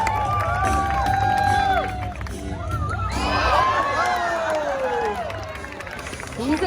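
Crowd of spectators, children among them, shouting and cheering continuously for a dock jumping dog at an outdoor summer street event, with excited voices rising and falling throughout.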